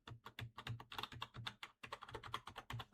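Rapid, uneven keyboard mashing, fast clustered key clacks in a dense burst with a brief pause near the middle, close and fairly quiet, with a cat involved in the smashing.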